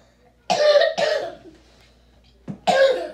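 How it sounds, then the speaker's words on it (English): Three sharp coughs from a child, two in quick succession, a pause, then a third, close and fairly loud with no talking. "Oh, that cough."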